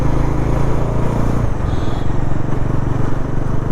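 A Bajaj Pulsar NS400z motorcycle engine runs close up, a loud steady low rumble with a slight shift in pitch partway through, with no talking.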